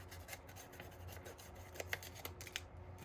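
Scissors snip and rub through fabric while a bag is being made at home, a string of soft, close cuts and rustles over a low steady hum.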